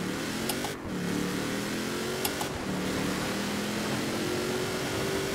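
A modded car fitted with a Racing V12 engine in Forza Horizon 4 revs and roars continuously, its pitch climbing and dipping through gear changes, loud and alone without voices.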